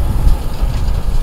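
A farm tractor pulling a roller crimper across a cover crop field, heard as a steady low engine rumble that stays loud and even throughout, with no voices.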